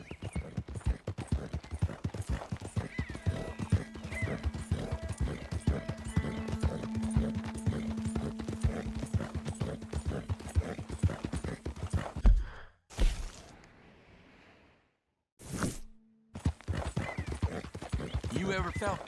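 Horse hooves clip-clop steadily at a walk in the Red Dead Redemption 2 video game, with a horse whinnying and snorting, broken by brief pauses near the end; voices speak over parts of it.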